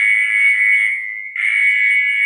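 A shrill electronic alarm beeps loud and steady, a sustained high tone with one brief dip partway through, sounding during a climbing training session at home.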